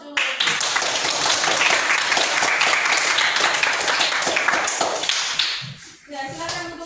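A school classroom breaks into dense, sustained clapping for several seconds, many hands close and loud, before it thins out and a voice speaks over the last moments.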